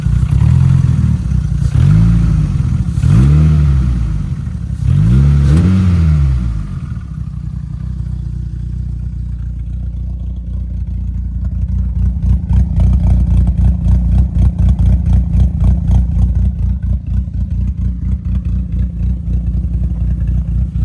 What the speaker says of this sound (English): Listen to that cammed idle